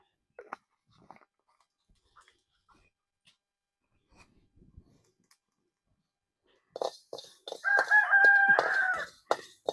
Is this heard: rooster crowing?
yes